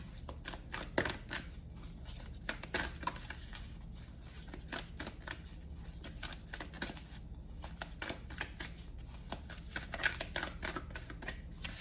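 A deck of cards is shuffled over and over, quick crisp riffling bursts repeating close by with brief pauses in between.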